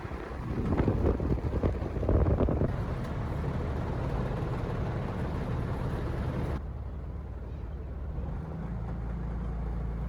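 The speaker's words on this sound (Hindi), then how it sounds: "हवा का रुख बहुत तेज़ हवा बह रही थी" Strong wind gusting across an open island setting near a river, a steady low roar with buffeting microphone rumble that swells early and continues throughout without speech.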